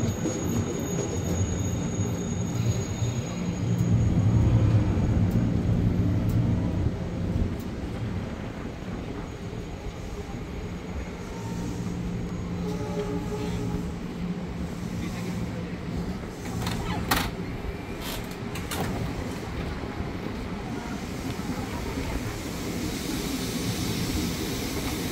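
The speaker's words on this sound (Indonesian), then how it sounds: "Jalur 7 dari arah utara menjadi melintas kereta api barang" A freight train runs through Manggarai station on track 7, a long rumbling passage of wagons with rhythmic wheel clatter and occasional metallic squeals, loudest early on and then continuing at a steady level.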